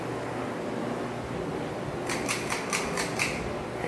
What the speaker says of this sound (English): If you're wondering what that sound is in the background, that's a dishwasher.